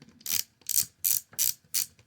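A ratchet clicks in five quick, evenly spaced bursts while removing screws from the ignition assembly of a 2006 Honda Pilot, close up and alone, with no talking.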